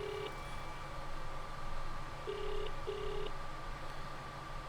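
Telephone dialing tones in the video game Let's Meat Adam 2, three short steady electronic beeps at uneven intervals over a constant low background hum.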